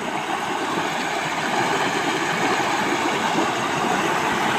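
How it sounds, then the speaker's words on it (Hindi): Village river water flowing steadily, a continuous broadband rush with a low rumbling undertone, close and fairly loud, no voices. "देखिए पानी कैसे जा रहा"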